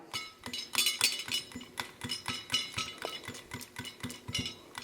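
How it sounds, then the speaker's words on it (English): A granule chopper snips two metal wires at a time, making rapid, rhythmic metallic clicks and chinks, roughly a dozen crisp snips in quick succession, close and fairly quiet with no talking. "so I'm chopping two pieces with each snip"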